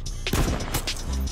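A sniper rifle shot in the battle royale game H1Z1 on PS4, one sharp loud crack with a short booming tail, followed by faint game ambience.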